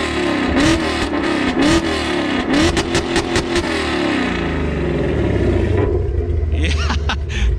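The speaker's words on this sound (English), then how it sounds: "Our boy's gonna rev it up to show you guys." An 11th-generation Honda Civic, lowered on coilovers with headers, X-pipe and stock exhaust, is revved hard several times up close in a shop, its loud rasping rumble rising and falling before settling to idle.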